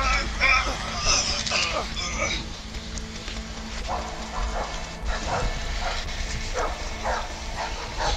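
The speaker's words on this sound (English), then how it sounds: "Dang, we were fast for those dogs." Dogs bark and yip in the video game A Way Out, scattered sharp barks mixed with creaks and game noise while players talk and laugh over them.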